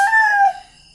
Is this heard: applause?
no